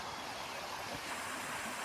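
A small stream of water trickles down through green bushes and shrubs in a village garden, a steady, soft, airy wash that stays faint and even throughout.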